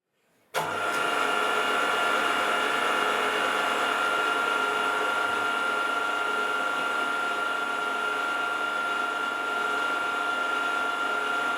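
Drill press turning a tap slowly at 75 RPM to cut a thread, a steady loud mechanical whir with a high whine that starts abruptly and runs continuously without a break.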